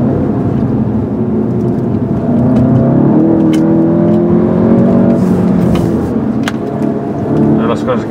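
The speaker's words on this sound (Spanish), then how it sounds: "¿Ha oído el petardeo al pasar una marcha más larga?" A 2013 Volkswagen Golf GTI engine revs hard as it climbs through second and third gear. The engine drone rises and falls at each shift, and several sharp exhaust pops and crackles break through on the upshifts.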